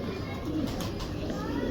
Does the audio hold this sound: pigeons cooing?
yes